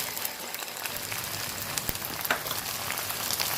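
Tomatoes hit frying onions that are already browning and crisping in the pan, giving a steady, dense sizzle and crackle up close for a few seconds with no talk.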